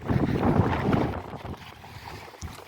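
Strong wind buffets the microphone outdoors near a riverside pit, a loud rumbling gust that eases slightly toward the end.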